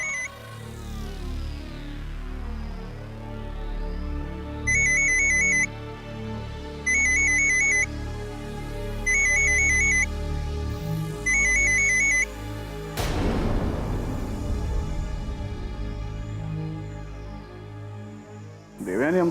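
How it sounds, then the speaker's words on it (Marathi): Telephone ringtone in a Marathi TV serial scene, four evenly spaced electronic ring bursts going unanswered over soft background music, followed by a dramatic musical swell. "देवयानी आमचा फोन का घेत नसेल?"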